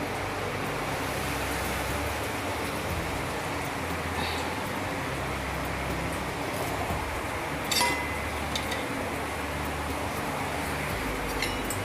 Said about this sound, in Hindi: इसको हमें फ्राई करना है